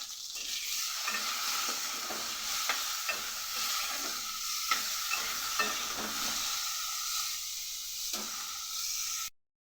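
Cut potatoes with turmeric and salt frying in hot oil with cumin, a steady sizzle broken by repeated scraping strokes of a spatula stirring the pan, ending abruptly.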